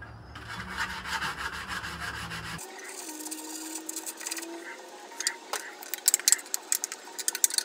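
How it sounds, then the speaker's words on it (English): Hand sanding rust off the hood of a 1958 7.5 HP Johnson Sea Horse outboard motor with 220 grit sandpaper, a close, dry scratching rasp of repeated back-and-forth strokes that grows choppier toward the end. "I'll use some piece of 220 grit sandpaper to get in there and break the rust off and scratch everything up so the paint will stick."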